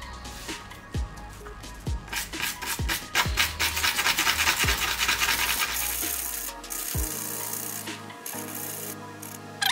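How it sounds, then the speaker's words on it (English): Keyboard keycaps being sanded by hand with coarse-grit sandpaper, a steady close raspy scrubbing in quick repeated strokes, punctuated by sharp taps and knocks, then easing off near the end. "first I'm going to use a higher grit sandpaper and then polish it down with 400 grit sandpaper"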